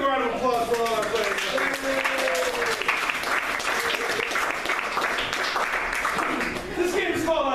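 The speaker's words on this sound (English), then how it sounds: "Let's give a round of applause for all our players." An audience applauds the players at a comedy game show, a dense sustained clapping that runs throughout while a host keeps talking over it.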